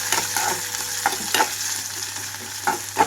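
Onions fry with other ingredients in a pan for millet egg biryani, a steady oily sizzle under a few scraping stirs of a spoon against the pan, with no voices.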